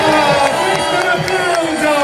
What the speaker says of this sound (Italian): Oh, questo è un applauso!